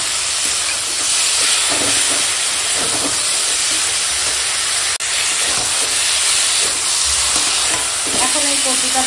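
Taro stems being sautéed with spices in a hot pan, a loud continuous sizzle and hiss with scraping stirring strokes, close and steady throughout.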